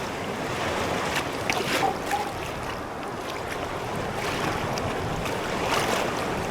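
Waves of the Adriatic Sea on an Albanian shore, a continuous broad wash of surf with gentle surges, close, mixed with wind rumble on the microphone and no talk.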